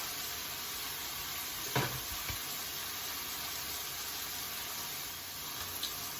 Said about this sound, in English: now I put the sausage cooking there